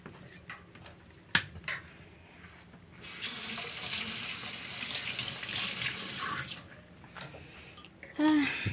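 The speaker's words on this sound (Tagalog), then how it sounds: "Hugas muna tayo ng kamay." A household tap runs steadily into a sink as hands are washed, a continuous rushing stream lasting several seconds, framed by small clicks and handling noises before and a brief squeak after.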